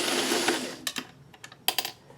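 A home sewing machine runs a zigzag stitch along quilt fabric strips, starting with a steady whir and then breaking into short, rapid bursts with brief pauses between them.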